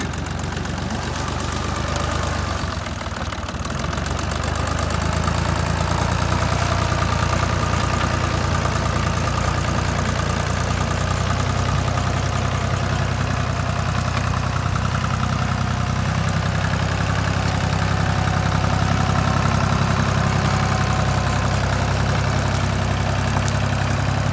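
Vehicle engine running steadily at low revs as it turns around to head home, a continuous close rumbling hum with a faint rise in level partway through.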